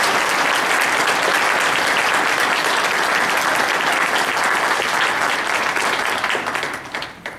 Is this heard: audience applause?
yes